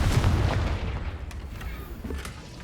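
A Confringo blasting spell explodes in Hogwarts Legacy, a deep booming blast at the start that rumbles and decays over a couple of seconds, with a few fainter pops and crackles trailing after.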